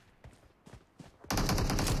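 Gunfire in the mobile battle royale game PUBG Mobile: a few sparse muffled shots, then a sudden loud, dense burst of rapid automatic fire that runs to the end.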